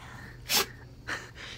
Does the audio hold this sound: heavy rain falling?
no